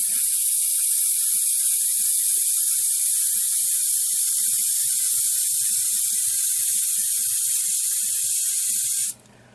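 A model airbrush sprays thinned Vallejo Model Color paint in a steady, loud, close hiss for about nine seconds, then the trigger is loosened and the spray cuts off abruptly.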